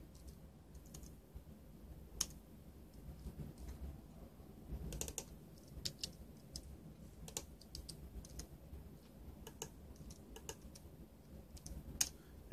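A password being typed on a computer keyboard, quiet close clicking keystrokes in irregular bursts with short pauses between them, no speech.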